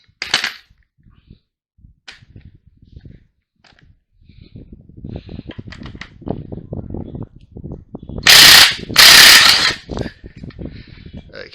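A wrench works a 24mm nut loose on the strut of a VR/VS Holden Commodore: scattered mechanical clicks and knocks, then two loud, harsh bursts in quick succession near the end, close by.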